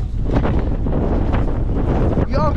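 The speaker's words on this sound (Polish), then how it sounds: "No wyłącz ten wiatr!" Strong wind on the Jasna ski area at Chopok buffets the microphone in loud, continuous rumbling gusts, and a brief voice cuts in near the end.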